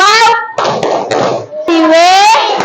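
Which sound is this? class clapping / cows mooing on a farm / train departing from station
class clapping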